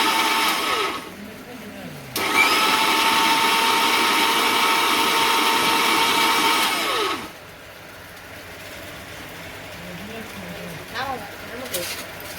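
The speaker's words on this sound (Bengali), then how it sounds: "আদা রসুন পেয়েছে সব ব্লেন্ডার করতেছি" An electric blender grinds ginger and garlic in a village kitchen, whirring loudly and steadily for about five seconds before stopping. Brief bursts come at the start, and someone talks nearby around the noise.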